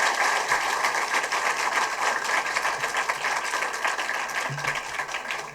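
Audience applause at a Sanskrit quiz event during the Mahakavi Magh festival, a steady dense wash of clapping filling the whole stretch without a break, moderately loud and fairly distant.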